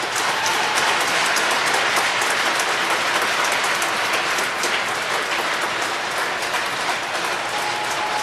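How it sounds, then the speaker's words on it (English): Audience at a varsity high school hockey game in an ice arena applauds, a dense, steady roar of clapping filling the whole stretch without a break. "Let's give them all a nice round of applause."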